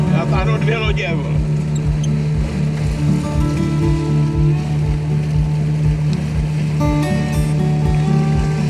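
Steady motorboat engine drone with water splashing as it tows two boats, continuous and loud throughout, with voices talking over it.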